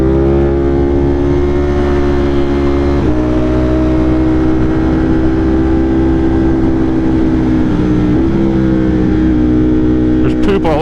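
A 200+ HP motorcycle on a commute ride, its engine a loud continuous drone with steady harmonic tone, shifting pitch at a few gear changes and a brief rev near the end, close and dominant throughout.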